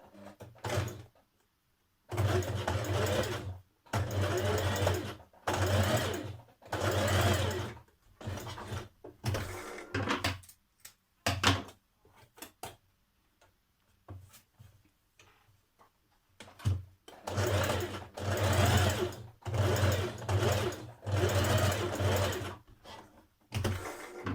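A home sewing machine runs a long gathering stitch along a curved seam of a pair of trousers, whirring in repeated bursts of a second or two separated by short pauses, close and alone without talk.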